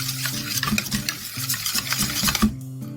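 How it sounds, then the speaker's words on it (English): Pancake batter is stirred in a bowl with a steady, rhythmic scraping and swishing that continues close and clear for several seconds, with a faint tonal background beneath. "Then mix this up real good."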